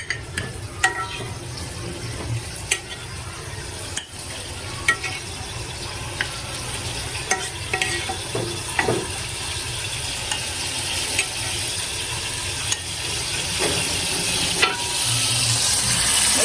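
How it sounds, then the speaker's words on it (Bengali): Food frying in a pan to soften while it is stirred: a continuous close sizzle with frequent scraping and clinking spatula strokes against the metal, steady throughout with no voices. "কিছুক্ষণের জন্য ভেজে রাখি নরম হবে"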